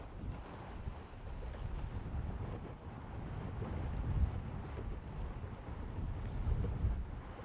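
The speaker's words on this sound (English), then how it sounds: "It is very windy today though." Steady, blustery wind roars against the microphone with low rumbling gusts on Florida's Space Coast, rising and falling with no voices.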